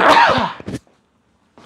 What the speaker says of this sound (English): So I'm just going to sneeze.